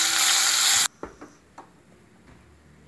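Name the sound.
thickly cut onions frying in oil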